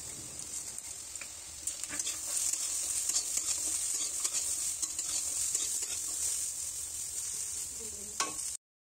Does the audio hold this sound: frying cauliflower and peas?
yes